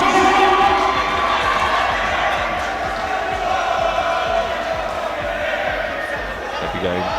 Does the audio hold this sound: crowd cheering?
yes